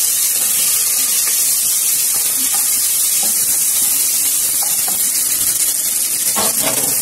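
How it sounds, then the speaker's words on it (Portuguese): Bacon, onion and garlic sizzle steadily in a pressure cooker, a continuous bright frying hiss with faint crackles throughout and no talking. "Fritou o bacon, vou jogar cebola e o alho."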